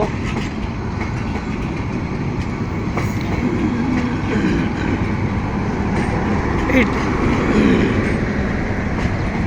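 A large passenger train pulls into Joydevpur station from Dhaka, its broad steady rumble and wagon rattle filling the whole stretch close by, with occasional faint voices on the platform.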